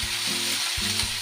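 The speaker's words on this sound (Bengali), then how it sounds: "এবার আমি দেব কালো জিরে, একটু ফোড়ন দিয়ে দিলাম।" Black cumin and green chillies sizzle in hot oil as a tempering for mustard greens, a steady broadband crackle with faint tonal scraping running through the short clip.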